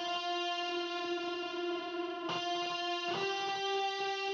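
A mono octave guitar track in a Logic Pro mix sounds out as a steady, bright sustained chord with an effects-unit sheen and light distortion, re-struck twice with fresh attacks, heard alone with no talk.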